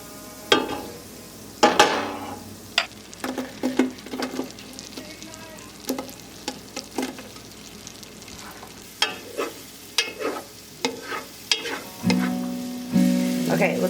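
Ingredients browning in a large stock pot for an apple cabbage stew: steady sizzling and frying with repeated stirring clatter and scrapes through the pot, closer and louder bursts near the end.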